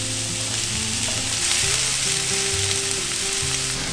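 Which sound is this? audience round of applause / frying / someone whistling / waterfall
frying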